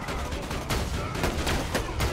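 Rapid automatic turret gunfire in the video game Borderlands 2, a dense continuous fusillade with sharper bursts roughly every half second, loud and close with no talking.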